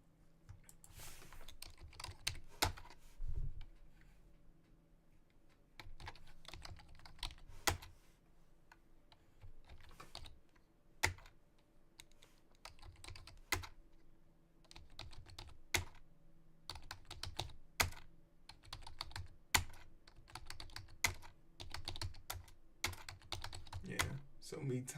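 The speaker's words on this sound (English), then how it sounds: "So me typing also slows me down." Rapid, irregular clicking of keys on a computer keyboard, with bursts of sharp taps spread across the stretch over a faint background hum, close and fairly quiet.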